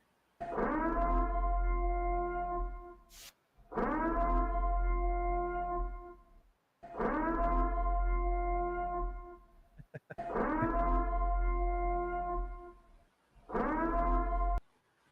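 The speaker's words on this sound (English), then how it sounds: "Some purge sirens." A wailing purge siren rises and holds a mournful tone in five long cycles of about two to three seconds each, separated by short silences, loud and alone.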